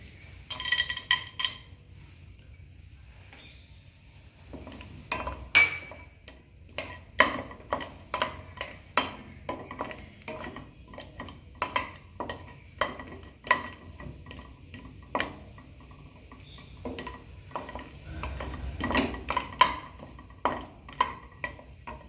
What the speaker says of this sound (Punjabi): ਪੀਨਟ ਕੱਢ ਕੇ ਰੱਖੇ ਹੋਏ ਆਪਾਂ ਇਹਨਾਂ ਨੂੰ ਰੋਸਟ ਕਰ ਲਾਂਗੇ ਤੇਲ ਆ ਜਿਹੜਾ ਆਪਣਾ ਗਰਮ ਹੋ ਗਿਆ